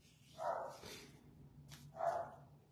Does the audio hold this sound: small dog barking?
yes